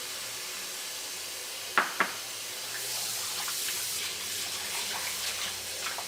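Running tap water rinses salt off small radishes for chonggak kimchi, a soft steady hiss and splash at the sink, with a couple of sharp clunks of the vegetables or bowl near the start.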